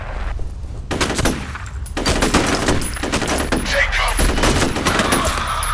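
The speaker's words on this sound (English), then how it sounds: "I think I was next to something that they shot and blew up." Sustained gunfire in the video game F.E.A.R., loud and dense rapid bursts with a heavier blast rolling through the middle, continuing without letup.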